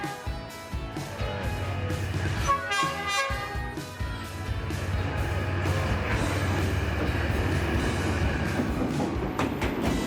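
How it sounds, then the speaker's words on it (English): A train rumbles past inches away along a street in Hanoi, Vietnam, with loud, continuous rolling wheel noise, metallic clatter and a brief screeching passage, filling the whole stretch. "The train rushes past just inches away."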